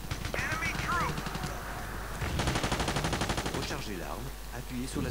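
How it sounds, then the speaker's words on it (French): Gunfire in the video game Battlefield 2: rapid automatic bursts with a fast rattling rhythm in the middle, under and between a player's spoken commentary. "Ah non, on me tire dessus."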